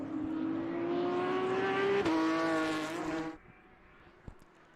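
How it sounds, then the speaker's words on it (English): A vintage Porsche 911 race car accelerates on track, its engine note rising steadily in pitch, loud and fairly near, then cutting off abruptly into quieter background. "If I had to identify one racing sound, it would be an accelerating 911."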